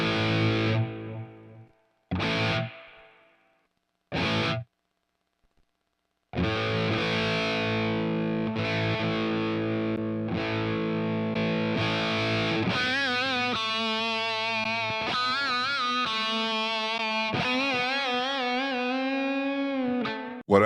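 Electric guitar played through a Pocket Master pedal with overdrive, delay and reverb: a few short distorted stabs with gaps, then sustained chords and wavering, swirling notes ringing with echo and reverb tails, loud and alone.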